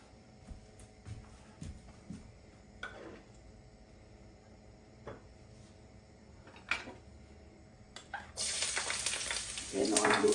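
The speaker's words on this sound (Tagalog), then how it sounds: "Pinapainit ko lang ho ang mantika at umpisa na natin ang maggisa ng bawang, sibuyas at kamatis." Garlic, onion and tomato hit hot cooking oil, breaking into a steady loud sizzle near the end after a quiet stretch of soft clinks and kitchen taps.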